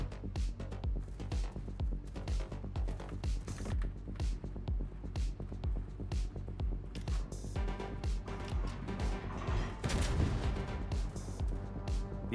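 Tier VIII German cruiser Knesbeck's guns firing armor-piercing shells at a Maya in World of Warships: steady rumbling, clanking game-ship noise with repeated low booming thumps, building to one loud, close salvo blast near the end, with no talking.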